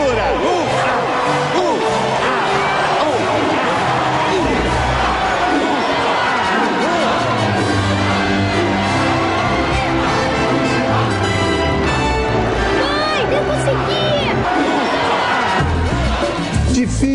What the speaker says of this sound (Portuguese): Anakin cruza a linha de chegada como vencedor, é recebido por uma empolgante multidão de espectadores.